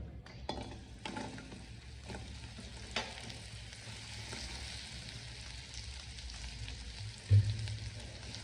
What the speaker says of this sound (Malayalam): ഇനി നമുക്ക് ഉണക്ക കൊഴുവ കുറച്ചായിട്ട് ഇട്ട് കൊടുക്കാം